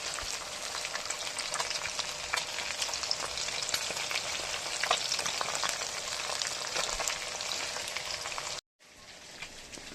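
Fish pieces fry crisply in a pan with a steady, loud, dense sizzle and crackle throughout, broken by a brief silence near the end before the sizzling resumes.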